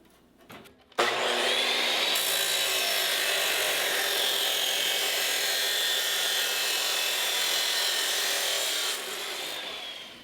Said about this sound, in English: Metal chop saw does a great job in cutting this type of steel.